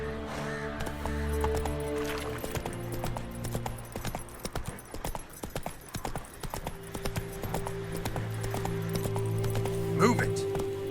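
Horse hooves galloping in The Witcher 3 video game, a rapid rhythmic clip-clop running under game music and voices, with a brief whinny near the end.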